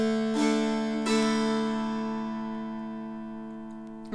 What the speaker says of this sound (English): Then that's followed up by a strum,